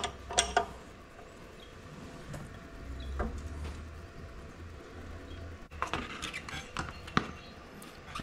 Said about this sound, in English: Tighten up your right one clockwise and your left one counterclockwise.